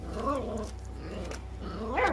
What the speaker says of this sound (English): Sorry, you're hearing my puppies in the background fighting a bit